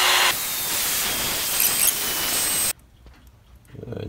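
A loud steady hiss of hot air blowing onto the movement of a Seth Thomas Model 1314A carriage clock, holding for a few seconds before stopping abruptly, leaving faint ticking and rustle.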